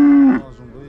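A cow lets out a single loud, close moo that drops off quickly at a cattle market in Uzynagash, Kazakhstan.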